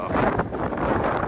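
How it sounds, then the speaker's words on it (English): Strong outdoor wind buffeting the microphone, a continuous loud rumbling roar with gusty surges and no clear speech over it. "Super windy out here right now."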